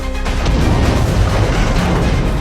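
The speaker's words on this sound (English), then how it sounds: "Soon enough the explosion caught the villagers' attention." A loud, rumbling gas explosion in a village, a dense burst of noise that sustains and rolls on for a couple of seconds without fading.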